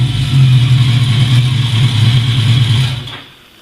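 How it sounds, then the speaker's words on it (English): Carbureted motorcycle engine with an aftermarket Mac header and can exhaust running close and loud, a steady throbbing idle with slight revving, then cutting off and fading in the final half second. "You just roll the throttle back enough to start moving the carburetors and it'll start right up."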